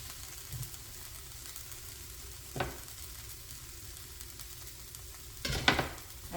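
Spices such as coriander, sesame, garlic and cumin hit a hot pan, giving a steady low sizzle with two brief louder bursts of frying and stirring, no voices.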